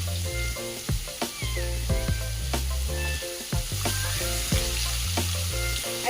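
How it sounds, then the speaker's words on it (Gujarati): Finely chopped onions with ginger-chilli-garlic paste sauté over a low gas flame for a Vidarbha-style dal bhaji, a steady close sizzle broken by repeated stirring scrapes and clinks against the pan. "આ રીતે આપણે સોતર કરી દઈશું."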